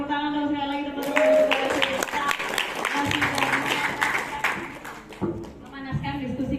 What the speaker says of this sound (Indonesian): Tepuk tangan dong sekali lagi teman-teman.